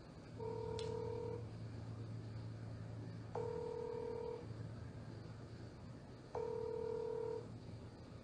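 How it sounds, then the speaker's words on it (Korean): Phone keypad dialing tones on a call, three short bursts of paired beeps spaced a few seconds apart over a faint low hum, quiet and close. "오마니한테 다시 전화하도록 하겠습니다."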